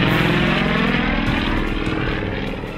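An aerobatic propeller aeroplane flies at an air show, a loud, continuous throbbing engine drone with a rough buzzing texture that fades slightly toward the end.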